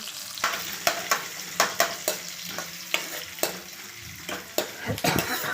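Chopped onion fries in a pan and is stirred briskly, a steady sizzle punctuated by rhythmic scrapes and knocks of a spatula against the metal, close and continuous.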